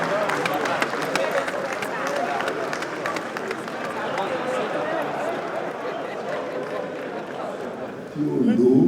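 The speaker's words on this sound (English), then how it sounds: "A round of applause for him, please." Audience applause at a political party general assembly hosted by a state governor, a dense wash of clapping and crowd noise throughout, with voices mixed in and a louder burst near the end.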